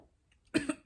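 A person coughs twice in quick succession, close and fairly loud, after a near-silent moment.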